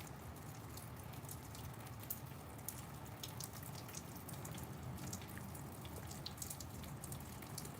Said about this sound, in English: the smattering of the raindrops hitting the stones